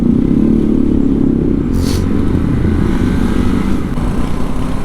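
Motorcycles riding over loose gravel on a Sunday group ride near Rishikesh, a loud continuous engine rumble mixed with crunching stones and wind buffeting, steady throughout and close to the microphone.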